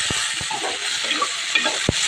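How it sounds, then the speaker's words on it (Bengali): Okra frying in a pan with a steady sizzle throughout, broken by a few sharp stirring scrapes, heard close and loud with no talking. "লাল লাল করে ভেন্ডি ভাজা হচ্ছে"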